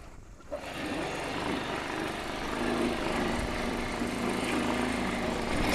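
A motorbike engine drones steadily and loudly, straining at a constant pitch on an off-road track, with no talk over it.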